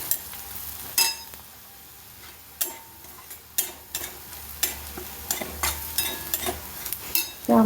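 Garlic frying in a pan with turmeric, red chili powder and salt, a steady low sizzle broken by repeated sharp scrapes and taps of a spoon stirring against the pan, close and fairly loud, with no talk.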